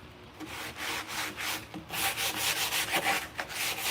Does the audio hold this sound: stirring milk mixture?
no